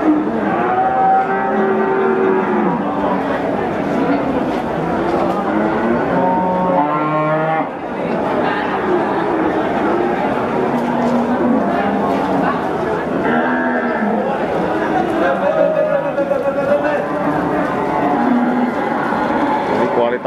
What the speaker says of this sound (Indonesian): Ini kualitas sapi-sapi hari ini dari pasar Wirosari, Grobogan, Jawa Tengah.